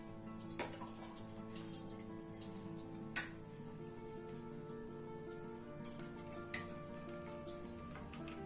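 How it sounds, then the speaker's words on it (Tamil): Four eggs frying in a kadai give a quiet, steady sizzle with a low hum underneath, broken by a few sharp ticks and pops scattered through. "வேற கடாய் வச்சு முட்டை ஃப்ரை பண்ணிக்கலாம்."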